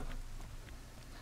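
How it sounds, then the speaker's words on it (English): Heavy rain pours steadily in DayZ, a dense continuous hiss of drops with faint patters, heard alone without voices. "It's pouring down now, y'all."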